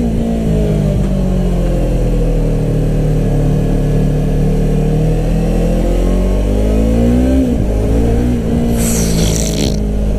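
A 2015 Yamaha R3 motorcycle fitted with an Akrapovic exhaust accelerates, its engine note climbing steadily through the revs, loud and close, with a brief dip and a burst of wind noise near the end.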